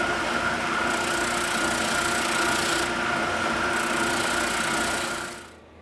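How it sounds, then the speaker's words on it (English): An oscillating spindle sander smooths cut cedar wood down to a line, making a continuous buzzing, whirring drone at close range that cuts off abruptly at the end. "using my oscillating spindle sander to get this down right to the line"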